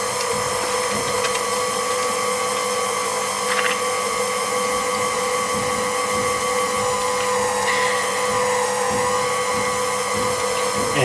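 Meat grinder grinding sausage meat for traditional British bangers, a continuous loud high-pitched motor whine with steady mechanical hum and occasional grinding changes, running alone throughout.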